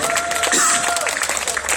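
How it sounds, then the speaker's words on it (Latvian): Audience at a salsa marathon competition awards ceremony gives loud, continuous applause with scattered cheers while an announcer's amplified voice talks over it. "Apsveicam un sagaidām visus skatos ar aplausiem."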